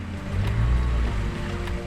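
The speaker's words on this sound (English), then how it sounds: "Oh, you hear the motor?" A boat's outboard motor running on open water near Key West with an engine control fault and little power at full throttle: a steady, close, loud low droning hum with water and wind wash over it, no talking.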